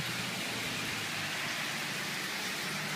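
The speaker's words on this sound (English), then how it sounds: "But it's raining hard." Heavy rain pours down in Central Texas, a dense, continuous hiss of drops that stays even and loud throughout, with no talking.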